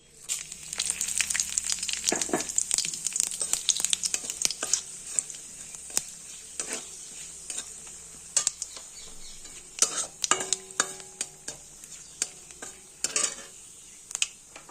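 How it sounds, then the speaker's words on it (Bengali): Vegetables fry in an oil tempering of dried chilli, bay leaf and cumin, making a busy close sizzle with frequent spoon scrapes and clinks against the pan, loudest early and then thinning into scattered stirring knocks. "আমি একবারে ফোড়ন দিয়ে সবজিগুলো ভেজে তুলব"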